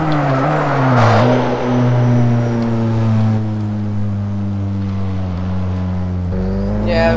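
A car engine in the racing game Test Drive Unlimited 2 drones steadily with sustained rising and falling tones, a loud, continuous hum with a deeper rumble near the end.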